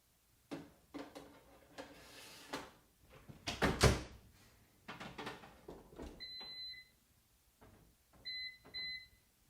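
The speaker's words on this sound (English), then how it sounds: "I'm just putting those fries in the air fryer, 400 degrees for 18 minutes" Fries going into an air fryer set to 400 degrees, with a sharp knock and some handling clatter followed by two short pairs of clear electronic beeps from the appliance, close by with no talking.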